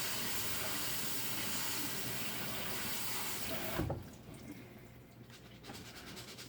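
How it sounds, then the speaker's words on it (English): Cold tap water runs into a pot of rice being rinsed in a kitchen, a steady hiss that stops abruptly partway, followed by quieter sloshing and swirling of water. "the rice, or rinse the rice out."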